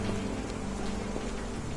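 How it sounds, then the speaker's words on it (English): Steady heavy rain with a low rumble of thunder in the Sherlock Holmes: The Awakened video game, a dense unbroken wash of sound that stays loud throughout, no voices. "This dreary rain is making a miserable day even worse."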